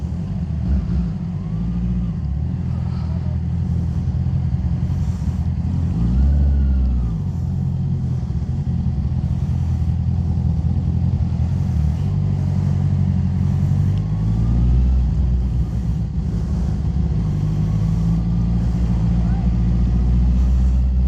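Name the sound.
road traffic by a lake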